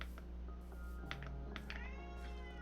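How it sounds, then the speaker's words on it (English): A pet cat meows repeatedly in the background of a quiet room, several short rising and falling meows with a longer whining one near the end, faint over a constant electrical hum. "You can hear my cat in the background."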